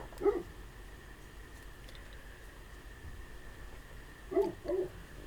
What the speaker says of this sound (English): She's a Great Pyrenees.